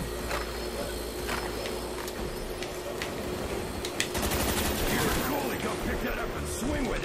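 Rapid video-game gunfire aimed at zombies in Nazi Zombies (Nacht der Untoten), bursts of shots over a steady dense game soundscape, with players talking throughout.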